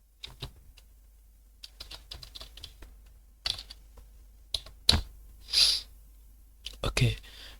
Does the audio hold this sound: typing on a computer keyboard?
yes